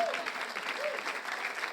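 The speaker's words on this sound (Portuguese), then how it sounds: "Podem bater palmas." Audience applause at a Portuguese-language church sermon, a short burst of steady clapping with a faint voice over it.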